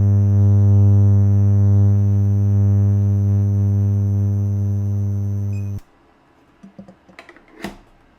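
An AriStorm cavitation machine (30k and 50k cavitation) runs with a loud, steady, close electronic hum rich in harmonics, then cuts off abruptly near the end, leaving a few faint clicks and taps.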